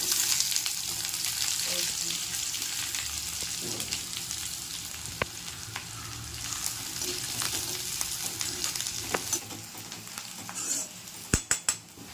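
Finely sliced onions fry in oil in a kadai, giving a steady, close sizzle that runs throughout, with a few sharp clinks of a utensil against the pan near the end.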